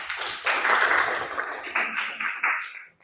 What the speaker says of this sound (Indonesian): beri aplaus dulu temannya